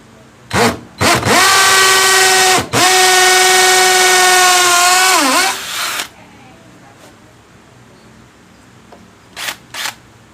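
A Stanley 18V cordless hammer drill, set to hammer mode at speed 2, bores into concrete with a 6 mm bit in one loud sustained whine lasting several seconds that winds down, framed by short bursts and a few later clicks.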